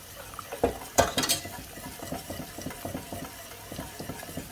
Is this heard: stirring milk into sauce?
yes